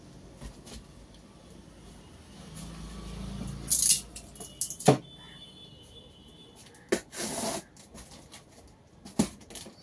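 Plastic and metal clicks and scrapes as a side panel is taken off an old desktop computer case at a computer shop, scattered handling noises over about ten seconds.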